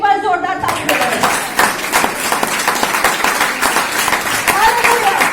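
A church congregation claps loudly together, a dense, rhythmic patter of many hands, with a voice speaking and calling out over the start of the applause.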